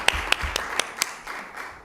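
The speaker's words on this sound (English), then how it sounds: "I would ask for a new round of applause." Scattered claps from a small audience after a presentation at a spring academy session, about half a dozen sharp, spaced hand claps, fairly faint and sparse.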